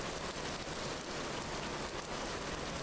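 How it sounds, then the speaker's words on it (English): Steady, even rain pours down in a Vintage Story game world, a dense continuous hiss of drops striking surfaces with no pauses or voices. "That's all I hear now, it's just rain."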